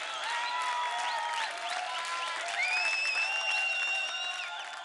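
Studio audience on a TV singing competition show applauding to welcome the judges, a sustained crowd wash with bright tonal music or cheering layered over it, loud and continuous.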